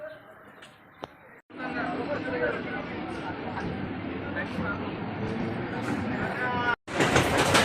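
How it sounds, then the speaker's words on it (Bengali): A train pulls into Ballygunge station in Kolkata: a loud, steady rumble with clattering wheels runs for several seconds, and people talk faintly in the background. "এই যে ট্রেন আসছে দেখুন"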